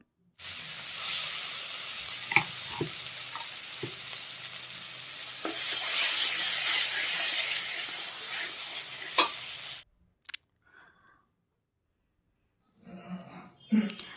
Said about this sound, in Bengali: এই যে এবার এটা একটু ভালো করে কষে নেবো